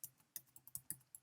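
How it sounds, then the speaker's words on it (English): Someone types on a computer keyboard at a steady, fairly quick pace. The clicks are quiet but close, with no talking. "And now I will simply start typing and see how this looks."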